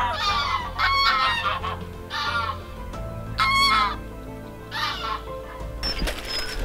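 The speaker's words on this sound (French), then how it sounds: "Alors regarde les oies, elles attaquent pas du tout." Geese honk in repeated bursts of loud, nasal calls, a few birds overlapping, fairly close with quiet gaps between.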